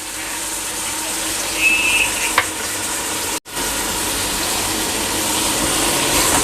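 Chopped tomato and ginger-garlic paste go into a pan with browned onions for vegetable biryani, giving a loud, steady hiss of frying that carries on throughout, with a short clink partway through.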